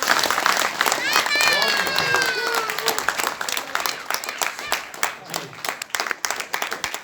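A theatre audience claps for Sahib after a stage performance of the play Dedh Inch Upar, full applause swelling at first and then thinning into scattered claps, with a brief whistle and some voices mixed in early.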